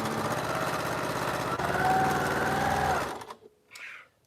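A sewing machine stitches quilt pieces for a Double Carpenter's Star quilt, whirring in a loud, continuous run that stops abruptly, followed by a brief quieter mechanical clunk.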